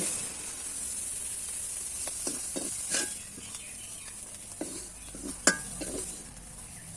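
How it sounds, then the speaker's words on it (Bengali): Cooked shrimp being stirred in a pan before being moved to another dish, a quiet low sizzle under intermittent scraping and clinking of the utensil against the pan. "এবার নেড়ে চেড়ে অন্য একটি পাত্রে নামিয়ে নিচ্ছি"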